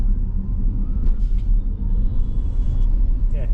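Geely EX5 electric SUV pulling away hard from a standstill, a loud, close low rumble of road and tyre noise with a faint high motor whine riding over it.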